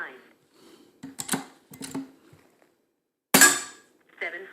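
A regulated Air Arms S200 .177 air rifle fires one sharp, short crack near the end, set among scattered clicks and handling noises with speech nearby.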